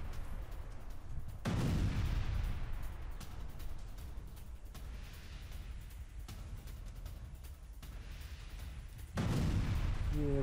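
Su-25 attack aircraft fire on a position in a friendly-fire strike: two heavy booming blasts about eight seconds apart, with rumbling gunfire rolling in between, fairly distant and with no voices.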